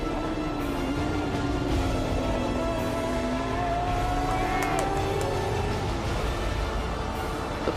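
Porsche race car at the 24h du Mans 2018 accelerating out of the Arnage corner, its engine tone climbing steadily over a constant roar of other race cars and crowd ambience, with faint commentary underneath.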